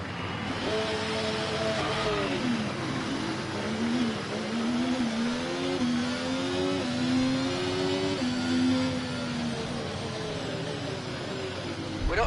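An F1 24 race car engine in a Haas at the Texas race revs hard with rising and falling pitch sweeps over a steady engine roar, loud and continuous with no talk.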